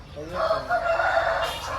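A rooster, an 11–12 month Kakinemali cock of about 3–3.5 kg, gives one loud, close crow lasting under two seconds with a rising, drawn-out call.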